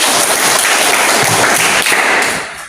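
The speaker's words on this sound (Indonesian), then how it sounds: "Tepuk tangan, Bro." Students in a classroom clapping together, a loud dense burst of many hands applauding steadily for a couple of seconds before tapering off.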